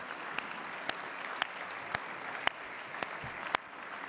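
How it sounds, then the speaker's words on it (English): Banquet audience claps for honorees in a faint, thin round of applause, steady patter with a few sharper individual claps standing out at regular intervals. "Let's give one round of applause for all our honorees."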